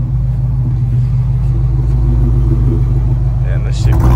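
A supercharged 6th-gen Camaro SS making 750 wheel horsepower gives off a loud, deep, continuous engine rumble that builds slightly toward the end. There are background voices under the rumble.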